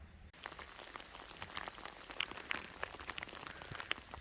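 Hail falling outdoors, a dense patter of small icy impacts with sharper individual clicks scattered throughout, steady and close, with no voices.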